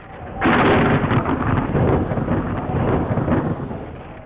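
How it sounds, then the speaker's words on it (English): Loud, continuous roar of a thunderstorm with heavy wind in the hills of southern Germany, a broad rumbling wash that swells sharply near the start and keeps surging without pause. "Thankfully, storms like this are not something you ever see at Paranal."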